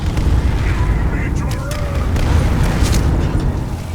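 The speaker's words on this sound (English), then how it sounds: "There's horrible things going on. Explosions, fireworks, dead Dremora, and geez, flash light." Explosions and fireworks in a Zelda-style video game inside Ganon's Tower rumble continuously and loudly, with scattered bursts and pops layered over a heavy low boom.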